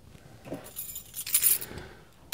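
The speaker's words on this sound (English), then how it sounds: "Grab the car keys" Metallic jingling and clinking of car keys for a Passat R36, a few light shakes close by with a brief sharper rattle at the end.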